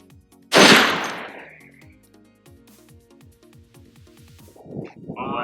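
A single loud blast from a Barrett M107A1 .50 caliber rifle fired at a target one mile away, a sharp report with a long rolling decay, followed by quiet background and faint rumble.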